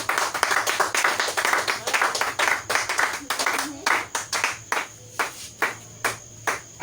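A church congregation claps in quick rhythmic unison, the sharp hand claps steady at first and then thinning into slower, more spaced beats near the end, with a faint murmur of voices underneath.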